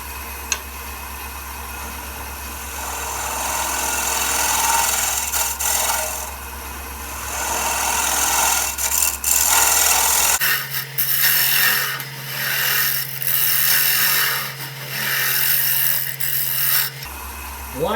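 A burr-edged tool cuts a beaded walnut bowl on a wood lathe, making a continuous close rasping, scraping sound over a low machine hum. The texture shifts partway through as the cut changes, and no one speaks.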